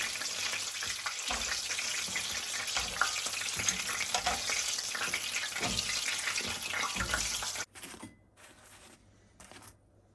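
Small cheese-filled tourton pasties frying gently in oil, a close, steady bubbling sizzle that runs for several seconds before dropping to a faint hiss with brief bursts.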